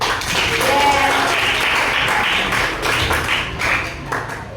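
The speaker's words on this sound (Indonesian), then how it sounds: "kasih tepuk tangan untuk si Dedi" A class applauds a student named Dedi, a loud, close burst of steady dense clapping from many hands that stays strong and eases slightly near the end, with some voices underneath.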